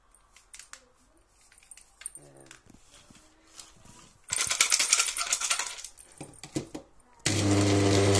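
A Magic Bullet blender chops chocolate for homemade cocoa in short, loud bursts of grinding, the pieces rattling against the cup, after quieter clicks and handling noises at the start.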